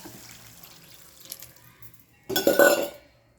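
Water is poured into an egg and vegetable curry cooking in a pan. After a quiet stretch comes a short, loud burst of splashing and gurgling that fades quickly.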